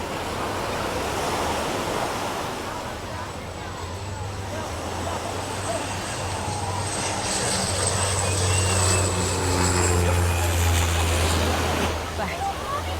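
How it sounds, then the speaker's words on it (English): A small propeller plane drones overhead at a crowded cruise port, its steady engine tone growing louder and nearer against surf and crowd noise, with people talking throughout. "Here comes a small plane now."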